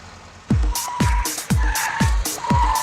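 A driverless test vehicle on an automated testing ground makes a series of about five sharp, loud braking bursts in quick succession, each a hard thud with a brief tire squeal, close by and with no talk.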